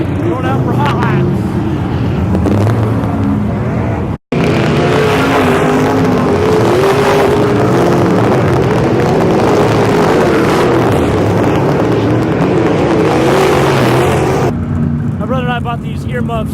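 Race cars lapping a track during hot laps, loud engines roaring continuously with shifting pitch as they pass and accelerate, nearby and dominant, one brief dropout in the middle.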